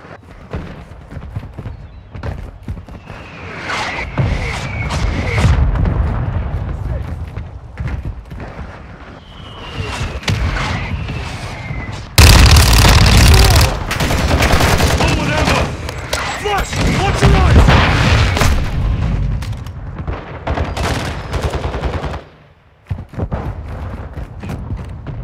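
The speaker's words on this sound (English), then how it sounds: "Friendly mortar strike inbound." Mortar strike explosions and bursts of gunfire in Modern Warfare II, scattered shots building to a loud, dense barrage midway, with game voice callouts heard among the blasts.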